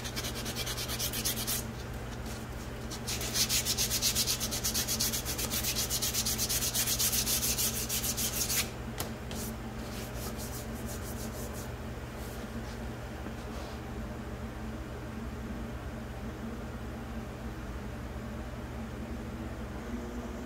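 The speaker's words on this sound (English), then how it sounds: "that's all cleaned up and sanded" An old axe head is sanded by hand in long, steady rasping strokes, louder and grittier for the first several seconds and then softer, with a low hum underneath.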